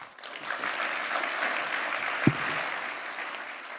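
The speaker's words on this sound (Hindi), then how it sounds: "लोग खड़े होकर तालियां बजाने लगे" A Davos audience gives a standing ovation after the Canadian prime minister's speech, a dense, even roar of applause that holds steady with one sharp thump near the end.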